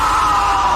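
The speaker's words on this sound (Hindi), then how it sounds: "उसकी चीख निकल गई।" A man's loud, sustained scream of fright, a horror-story sound effect, held steady and close for under a second with no other sound.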